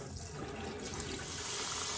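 Water draining out of a bowl of farm fresh eggs during cleaning, a steady close rushing pour with no pauses, heard alone.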